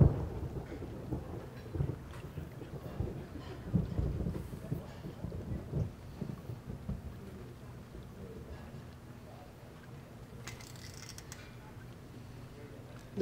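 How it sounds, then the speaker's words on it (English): Steady rainfall with low rumbling thunder from the Tex Murphy: The Pandora Directive video game, a continuous moderate wash of storm noise that swells early on and softens toward the end, with no talk over it. "Looks like the rain's letting up."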